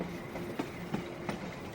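A train rolls past with steady, evenly spaced wheel clicks over the rails, heard at moderate level with no voices.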